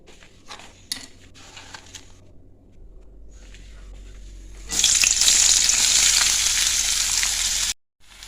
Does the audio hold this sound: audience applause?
no